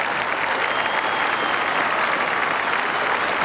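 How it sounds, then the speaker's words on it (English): Loud, dense applause rises from a large crowd at an outdoor ceremony honouring the Queen during a First Fleet bicentennial re-enactment in 1987, a continuous wash of clapping with no pauses. "Crusoe Girdle ascends the steps to loud applause"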